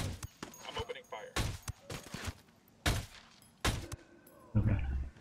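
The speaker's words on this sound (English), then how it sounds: "I'm opening fire." Gunfire in Ghost Recon Wildlands' Fallen Ghost DLC comes as several short, sharp bursts and single cracks spaced a second or so apart, fairly quiet, with voices talking in between.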